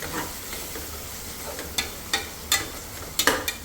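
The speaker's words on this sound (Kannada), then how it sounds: "ಇದೆಲ್ಲ ಚೆನ್ನಾಗಿ ಮಿಕ್ಸ್ ಮಾಡ್ಕೊಳ್ಳಿ" Spices with garam masala and biryani masala stirred and fried in a pan for paneer biryani: a constant loud sizzle, with several sharp scraping clicks from the spoon toward the end.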